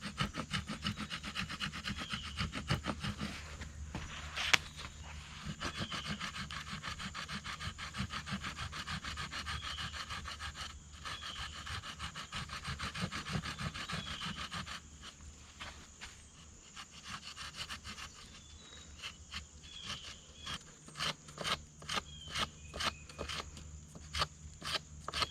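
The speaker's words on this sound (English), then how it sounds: "take our stone knife and we're going to score all the way around it" Stone knife scoring around a wooden atlatl spear shaft, a steady run of scraping, rasping strokes at close range, getting sparser and more clipped toward the end, with no talking.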